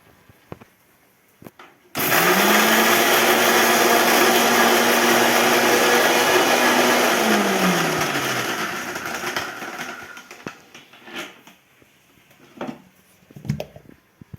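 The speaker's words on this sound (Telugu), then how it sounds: "ఇప్పుడు ఒకటి మిక్సీ పట్టుకోవాలండి ఫస్ట్" A mixer grinder starts abruptly and whirs loudly for several seconds, coarsely grinding with salt for jonna sangati, its pitch dropping as it winds down, followed by faint clinks and knocks.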